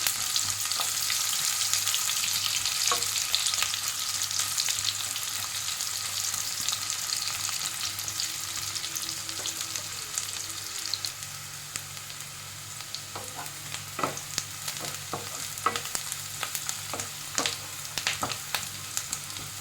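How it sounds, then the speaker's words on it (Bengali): Two large sliced onions sizzle and crackle steadily in hot oil in a pan, with occasional sharper pops and stirring scrapes, close and continuous with no talking. "পেঁয়াজটা একটু ভালো করে ভেজে নেবো।"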